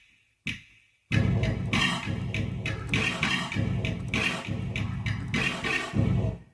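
A drum kit built from Mike Tyson, Yoda and Wii Sports samples, including a pitched-down brick sound with reverb, plays a punchy rhythmic pattern after a short opening hit and a pause.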